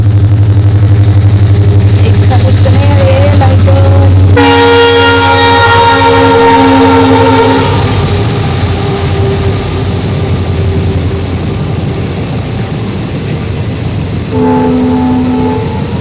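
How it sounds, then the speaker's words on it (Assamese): A train passes along a nearby railway line: a loud, steady rumble of wheels and cars, with long horn blasts for several seconds in the middle and another short blast near the end. "আমাৰ এইফালেদি মানে ৰেল যায়,"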